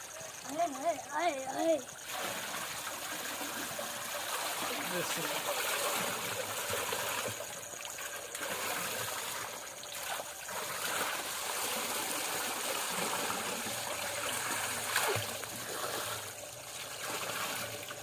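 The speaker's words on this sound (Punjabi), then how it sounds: "ਇਹ ਉਹ ਪਾਣੀ ਹੈ ਜਨਾਬ ਜਿਹੜਾ ਆਪਣੇ ਆਪ ਜ਼ਮੀਨ ਤੋਂ ਨਿਕਲਣ ਡਿਆ ਦਾ" Spring water flowing out of the ground at the Bada Bhai Darbar fair shrine makes a steady rushing wash under busy crowd noise, with voices talking over it.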